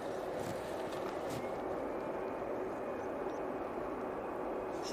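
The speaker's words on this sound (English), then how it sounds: "Finnair is about to spool up" Finnair jet engines spooling up at Manchester Airport make a steady, broad roar with a faint high whine, heard from a distance as a continuous rumble without talk.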